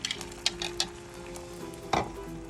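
Beaten egg mixture poured into a hot oiled pan for a rolled omelette, sizzling softly under a steady background hum, with a few light utensil clinks and a sharper knock near the end.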